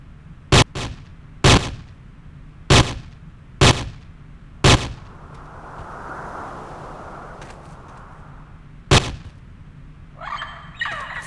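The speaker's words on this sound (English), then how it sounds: "Four shots." Gunfire in the video game Trespasser: six sharp, loud single shots spaced irregularly, five in quick succession over the first few seconds and one more after a pause, with rustling ambience and a faint clatter near the end.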